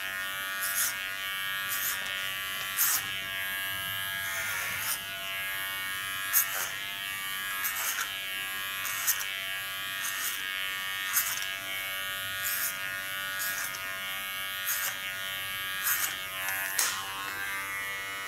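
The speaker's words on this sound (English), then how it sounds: "Take my clipper to the back." Electric hair clipper buzzing steadily and close while cutting hair at the back of a short trendy haircut, with regular light clicks and strokes as it passes through the hair, no talking.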